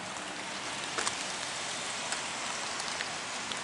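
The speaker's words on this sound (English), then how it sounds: "White skies and rain." Steady rain falling on a morning under white skies, a soft continuous patter with a few sharper drips, fairly quiet and even throughout.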